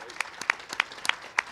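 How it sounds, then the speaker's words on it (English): Sparse applause at a city government meeting, a handful of separate sharp claps spaced irregularly, faint and close, with no talk over them. "Let's give him a round of applause."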